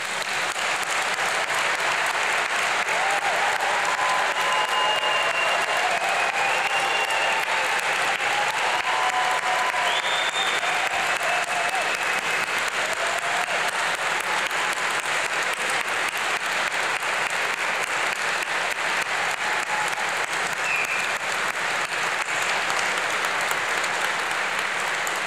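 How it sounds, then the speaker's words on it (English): A large audience at a degree ceremony gives a long, steady round of applause for the graduates, dense and even throughout with no voices above it. "give one last huge round of applause for these amazing people"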